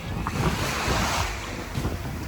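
Mediterranean surf washes onto the shore in a steady, loud roar, with heavy wind buffeting the microphone and no clear voices.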